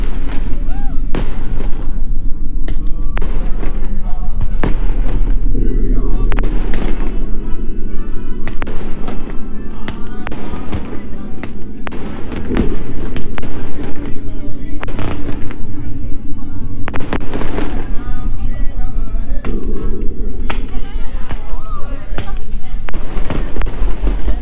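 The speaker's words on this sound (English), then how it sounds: "Of course they had a fireworks show." Fireworks show at a Los Cabos resort restaurant in Mexico, a steady barrage of loud bangs and crackling bursts in rapid irregular succession, with some voices faintly mixed in beneath.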